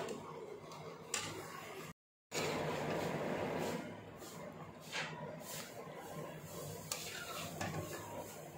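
Beef karahi is stirred in a pan, with close scraping and clinking strokes over a soft sizzle. A brief moment of complete silence falls early on, and the stirring carries on alone.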